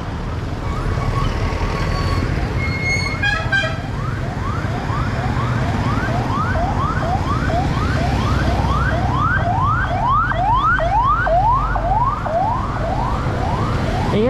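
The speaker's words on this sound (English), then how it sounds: "here comes an emergency vehicle" An emergency vehicle siren passes along a street near a beach bar in Barrio Barretto, a loud, steady rising wail repeating rapidly over constant traffic hum, with brief horn-like tones early on.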